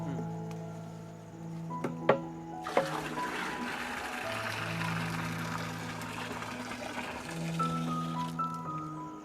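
Cow urine is poured into a jeevamirtham drum, a steady splashing, trickling stream of liquid that runs for several seconds alongside a few sharp knocks.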